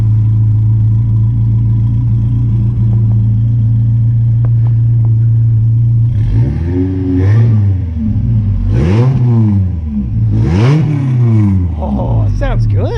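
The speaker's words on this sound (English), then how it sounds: "Here, rev it up a little bit." A supercharged 22R engine in a 1960 Rambler idles with a loud, throaty rumble, then is revved in about four rising and falling bursts, close by; people talk over it.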